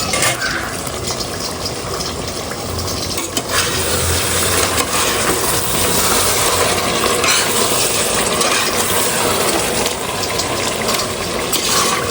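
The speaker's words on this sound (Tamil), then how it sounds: "தண்ணி ஊற்றணும்." Water pours steadily into a pot of chicken biryani with rice, a continuous close splashing and gushing that runs for several seconds with no voices.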